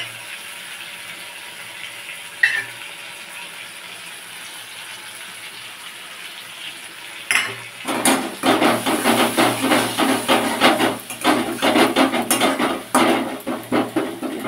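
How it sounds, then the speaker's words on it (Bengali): Fresh green jackfruit being sautéed with spices and softened tomato in a pan, a steady sizzle with clattering stirring and scraping sounds, faint at first and then louder and busier, with no talk. "একেবারে মশলার সাথে কষিয়ে নেব"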